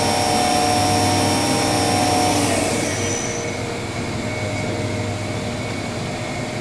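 Spindle of an Excel PMC-10T24 vertical machining center spinning at high RPM, a loud steady whine and whir that winds down partway through, close and continuous without talk.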